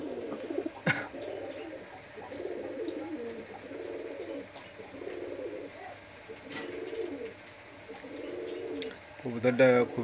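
A Pakistani high-flyer teddy pigeon, number 128, coos in repeated low throaty bursts, fairly close, with a brief sharp knock and rustling near the end.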